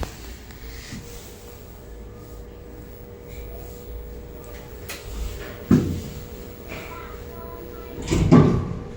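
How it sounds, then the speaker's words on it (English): Lift doors in a Stannah lift at a Woking shopping centre sliding open, a low mechanical rumble with a couple of soft thuds and clunks over steady machine hum, with people talking quietly. "Doors opening."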